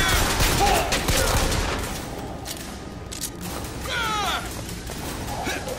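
Rapid gunfire bursts in the video game Bioshock Infinite, loud at the start and fading into quieter shots and mechanical clatter, with a voice speaking partway through.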